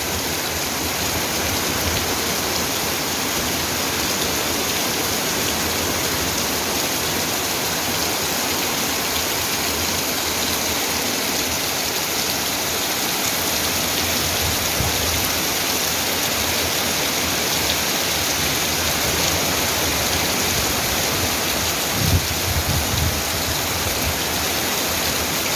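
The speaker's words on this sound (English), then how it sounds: "A lot of rain falling." Heavy rain falls outdoors as a loud, continuous hiss of dense drops that never lets up, with no voices heard over it.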